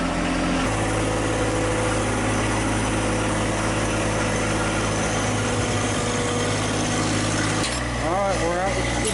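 A 1942 Studebaker barn find runs its engine steadily and loudly as it is driven out of a barn, holding a constant low drone with a shift in tone near the end.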